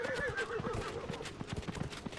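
A horse whinnies while hooves clip-clop in a quick, uneven rhythm in the video game Dragon Age: Inquisition, fairly close and clear with no speech.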